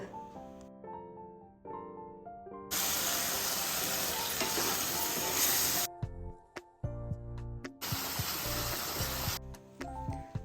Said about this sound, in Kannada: ರುಬ್ಬಿದಂಥ ಮಿಶ್ರಣವನ್ನು ಹಾಕ್ಕೊಂಡು ಚೆನ್ನಾಗಿ ಚಿಕನನ್ನು ಹುರಿಬೇಕು